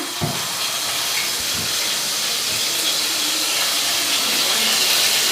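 Garlic frying in hot oil with whole cumin in a covered pan, giving a steady, loud hiss and sizzle with faint spattering throughout, no voices.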